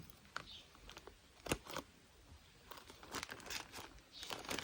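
A parcel package is cut open with scissors, giving close, quiet crinkling and rustling of wrapping with sharp snips and tearing bursts at an irregular pace.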